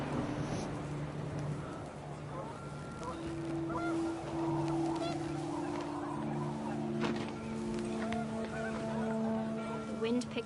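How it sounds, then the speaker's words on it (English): Panicked geese honk in What Remains of Edith Finch. Several drawn-out honks layer over wind and a voice, rising and overlapping through the second half. "panicked geese appeared and quickly went"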